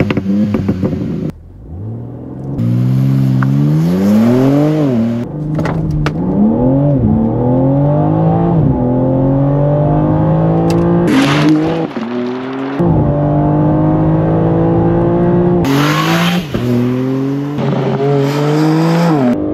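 A BMW M3 Touring engine revs hard and accelerates through several gear changes, pitch climbing and dropping repeatedly, with brief pauses between pulls.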